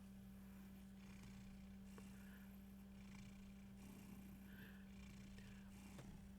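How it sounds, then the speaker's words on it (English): A soft, steady cat purr hums close up with a low continuous drone, quiet and unbroken, with no voices. "Sometimes he gets really close to the mic and you can really hear the purrs."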